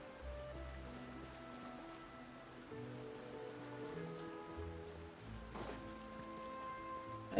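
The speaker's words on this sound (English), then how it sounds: "it's actually like raining really hard right now" Heavy rain in Genshin Impact, a soft, steady patter of rain under sustained tonal background music, faint and continuous, with a brief sharper swell near the end.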